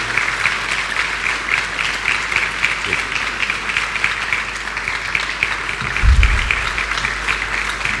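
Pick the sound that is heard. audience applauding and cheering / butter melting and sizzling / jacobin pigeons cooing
audience applauding and cheering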